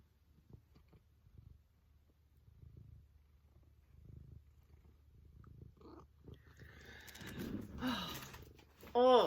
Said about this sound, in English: He's purring. He's purring up a storm.